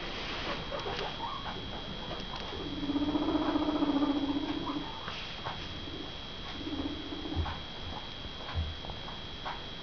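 Two guinea pigs, one white and one dark, give high chirping squeaks and soft rhythmic chutters, with a louder run of calls in the middle and quieter bursts later, close by over faint background hum and clicks.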